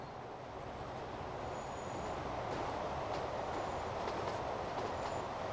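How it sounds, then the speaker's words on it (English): A train passing by in the Transport Fever rail simulation game, a steady broadband rumble of rolling wagons holding for several seconds with faint wheel noise, no talking. "Are you waiting for that train passing by?"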